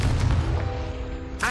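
The Confringo fire spell in Hogwarts Legacy blasts with a loud, deep boom that rumbles and fades over about a second, followed by a brief sharper burst at the end.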